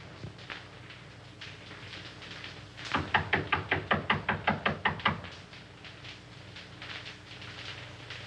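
A rapid burst of about a dozen sharp knocks on a door in a 1933 film, loud and evenly spaced, rising out of a quiet room tone and stopping abruptly.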